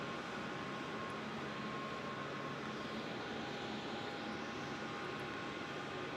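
A Jetstar airliner inbound from Hobart arrives at Melbourne Airport, heard as a faint, distant, steady jet roar with a thin whine on top, continuous with no voices.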